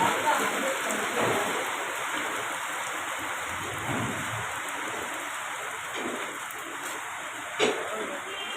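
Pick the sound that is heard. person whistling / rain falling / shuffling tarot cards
rain falling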